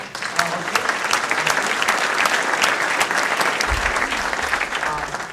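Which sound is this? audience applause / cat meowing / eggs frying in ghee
audience applause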